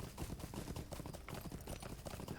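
Hooves of a horse in a fantasy role-playing game clip-clop in a steady, brisk rhythm, continuous and fairly quiet with no talk.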